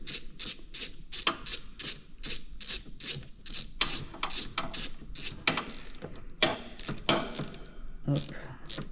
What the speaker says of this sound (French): d'utiliser la rallonge sur le cliquet, parce que sinon c'est pas possible